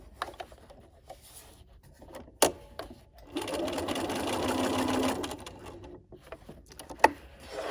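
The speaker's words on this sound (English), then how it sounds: "we're going to lower our presser foot here and we're going to stitch right in those previous top stitching" A sewing machine top stitches a dog leash in one steady close burst of rapid whirring lasting about two seconds, framed by quiet handling clicks and taps before and after.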